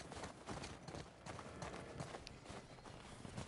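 Horse hooves gallop in The Last of Us Part II Remastered, a quick, steady clip-clop rhythm of hoofbeats with no talking.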